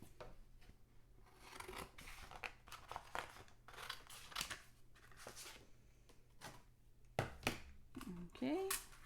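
Scissors cutting card stock for a handmade card, a series of close, crisp snips and crinkles in uneven bursts, with someone talking quietly in between.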